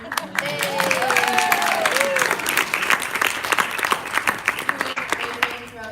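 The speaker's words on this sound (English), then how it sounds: "Round of applause for Ayush." An audience applauds at an India showcase event honoring a helper, with steady clapping that continues for several seconds. Faint voices and a few whistle-like tones sound through it.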